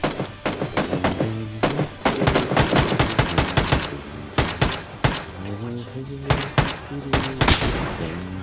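Rapid bursts of video-game gunfire, including M24 rifle shots, fire loud and close in dense volleys throughout a multiplayer shooter match, with players talking over them.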